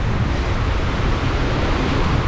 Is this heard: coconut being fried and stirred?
no